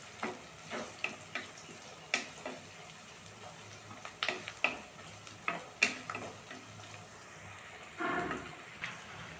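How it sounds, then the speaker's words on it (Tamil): Chopped onions go into hot oil with fennel seeds for a squid curry, giving intermittent clinks of a spoon stirring the pan over a faint sizzle, then a burst of louder frying near the end. "வெட்டி வச்சுருக்க வெங்காயத்தை சேர்த்துக்கிறேன்."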